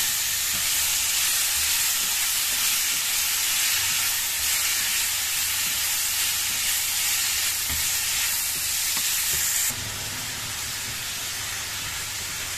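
Pork belly sizzles loudly while being stir-fried in a pan with lemongrass and chili, a constant bright hiss with occasional scraping stirs.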